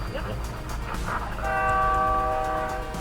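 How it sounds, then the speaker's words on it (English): A train rumbles past with a sustained, loud horn blast sounding over the steady rolling noise, with faint voices in the background. "We heard you the first time. Train."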